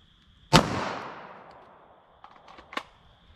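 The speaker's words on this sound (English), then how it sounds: "9mm through our denim and MDF." A single sharp 9mm gunshot cracks out and rings off into a fading tail as the round passes through denim and MDF into ballistic gel, followed by a few faint clicks and knocks.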